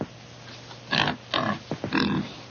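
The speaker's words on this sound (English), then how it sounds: "Nice pig." A pig grunts and oinks in a few short, close bursts on a farm, with quiet gaps between them and no talk over it.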